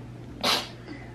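A single sharp sneeze bursts out in a quiet room, brief and fairly close, over a steady low hum.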